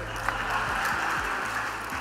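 Audience at a poetry gathering claps in a steady, continuous patter of applause, heard under a voice talking over it.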